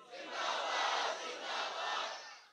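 A large crowd chants a religious slogan during a Shab-e-Barat gathering, a loud, massed roar of voices rising in two broad swells over a few seconds.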